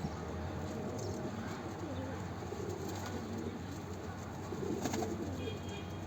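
A pigeon coos close by, its low throaty calls rolling repeatedly over a steady background of flock noise and faint rustling.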